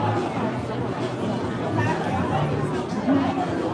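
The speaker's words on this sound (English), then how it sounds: "People are getting the crowd hyped up" Crowd chatter at a Ted Cruz political rally: a steady, dense babble of many voices at moderate distance, with no single speaker standing out, filling the whole stretch.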